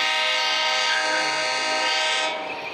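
Train from the Roblox video game moving past, a steady loud broadband rumble with sustained horn-like tones that fades slightly toward the end, with no talking.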